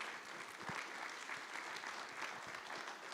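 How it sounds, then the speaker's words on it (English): An audience at a Care Champions Day event claps steadily indoors, a sustained round of applause with no speech over it. "Martina Derry, give a round of applause, please"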